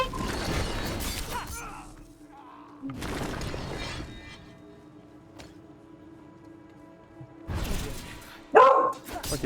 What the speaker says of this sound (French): C'est rien, c'est un chien qui aboie, Malcolm.